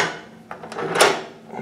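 A deadbolt on a hotel room door at the ARIA Casino & Resort in Las Vegas is unlocked, giving a few quick, close mechanical clacks with one sharper snap near the end.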